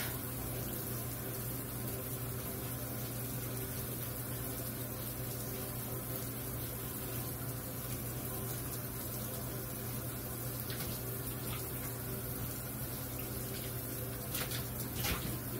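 Water runs steadily for a toy doll's bath, a constant gushing rush like a tap filling a tub, close and unbroken throughout with a faint clink or two near the end.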